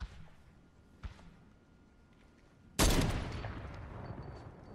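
Gunfire from Fortnite Chapter 4 Season 2 erupts as a sudden loud burst partway through, leaving a sustained noisy tail after a faint earlier crack over quiet game ambience.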